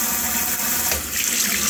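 Kitchen sink faucet running in spray mode, a steady close hiss of spraying water into the sink that continues evenly throughout with no talking.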